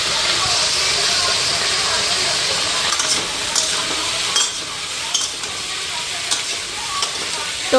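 A vegetable curry with turmeric fries in a pan as it is stirred. A loud, continuous sizzle and hiss fills the sound, broken by occasional scrapes and clinks of the spoon against the pan.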